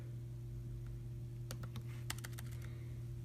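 Quick bursts of typing on a computer keyboard, a short run of close clicking keystrokes over a steady electrical hum.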